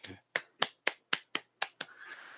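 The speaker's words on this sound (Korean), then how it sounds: "박수 부탁드리겠습니다" Applause at a sports industry jobs conference after a presentation, heard as about eight sharp, evenly spaced single claps close by, followed by a faint tone.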